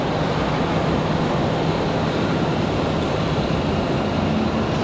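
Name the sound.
airplane taking off, bound for Portsmouth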